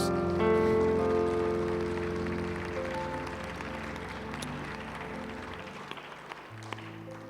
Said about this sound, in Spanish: Le podemos dar un aplauso al Señor esta mañana otra vez.